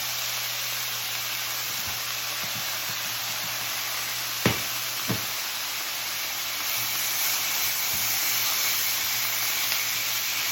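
Continuous loud sizzling hiss of noodles frying in a pan for chicken pad Thai, with a couple of brief clinks or taps partway through.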